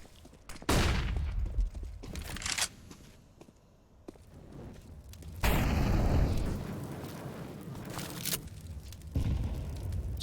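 AK rifle gunfire in a first-person shooter video game, heavy bursts of shots and booming impacts in two loud stretches separated by a quieter pause.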